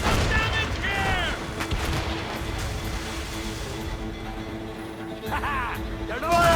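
Naval cannons fire from sailing ships in Assassin's Creed Rogue, booming blasts over a constant roar of battle and sea, with shouted crew voices in the mix.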